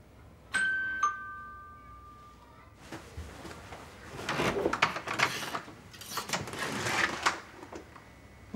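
A doorbell rings twice with bright chiming tones, clear and close, in a film scene, followed by shuffling, door movement and rustling room noise.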